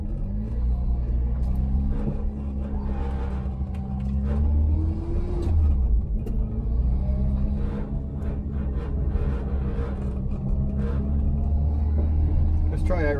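A Carver One tilting three-wheeler accelerates, its engine giving a steady, loud rumbling whir that rises in pitch through the run, close by.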